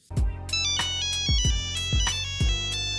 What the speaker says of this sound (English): it's this iconic Nokia ringtone that defined the year and still has us reaching for our pockets